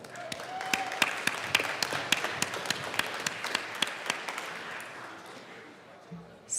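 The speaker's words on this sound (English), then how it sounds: "Round of applause for Johnny Hicks, my bad." Applause in a legislative chamber, the Colorado House, with sharp individual claps standing out over a steady wash of clapping that fades toward the end, with some talk underneath.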